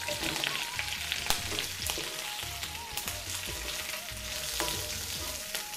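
Onions fry in a pan with a continuous close crackling sizzle, scattered utensil taps and soft voices talking faintly in the background.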